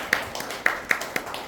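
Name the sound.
audience clapping in welcome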